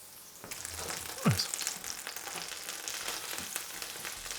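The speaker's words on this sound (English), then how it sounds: "So we're going to toast it up in some butter." Slices of pan de campagna, a sourdough-like bread, toast in butter in a hot pan, crackling and sizzling steadily up close with one short squeak of the bread sliding.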